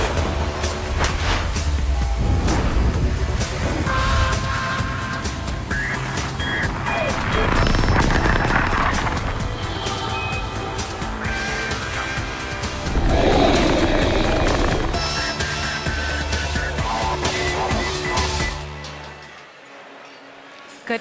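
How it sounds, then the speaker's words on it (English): A SpaceX Falcon 9 rocket at liftoff from a launch pad produces a sustained, loud, broadband roar with crackling rumble that holds steady for nearly twenty seconds before cutting off abruptly. "liftoff. Falcon 9."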